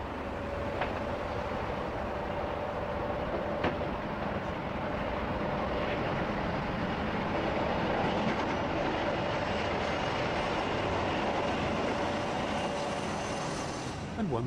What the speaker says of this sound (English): The 47, diesel's equivalent of the Black Five, seen here scurrying away from Eastleigh like a bat out of hell as it goes in search of its train.